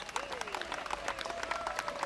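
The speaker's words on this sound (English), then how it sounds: "Everybody clapped." Applause breaks out in a children's cartoon, a steady patter of many hands clapping at moderate volume, with a tonal line running underneath.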